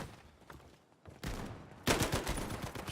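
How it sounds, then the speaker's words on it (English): Shotgun blasts in a World War II team shooter match, a burst of loud, sharp reports arriving after a quieter stretch, dense overlapping gunfire from several weapons rather than isolated single shots. "Shotgun from Blues doing a lot of damage."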